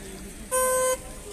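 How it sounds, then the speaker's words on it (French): A car horn gives a single short, loud toot of about half a second, close by, at a roadside emergency scene with firefighters attending during a yellow vests protest in France. "Le klaxon marche."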